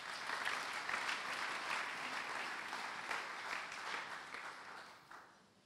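A church congregation breaks into sustained applause, a dense wash of many hands clapping together for several seconds before fading out near the end, with no voices over it.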